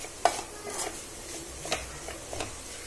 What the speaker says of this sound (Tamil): இப்ப நல்லா சுருள சுருள ட்ரையா வதக்கி எடுத்துக்கணும்.